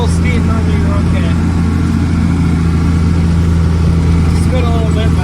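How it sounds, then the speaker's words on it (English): A mixer tractor fitted with chains, diff locked, labours uphill through about twelve inches of snow, its engine droning loud and steady with a heavy low hum throughout. "even though we even have chains on this mixer tractor, it's still a little bit hard to get up these hills"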